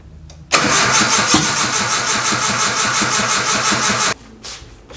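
A turbocharged Nissan 240SX with a faulty throttle position sensor and mismatched injector sizing cranks and fires on its first start, running loud and rough for a few seconds before abruptly cutting out to quiet.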